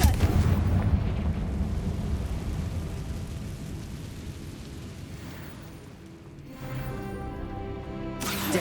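Confringo blasting spell explosions from the Hogwarts Legacy video game, a sustained loud booming rumble with crackling debris that slowly fades, then swells again near the end.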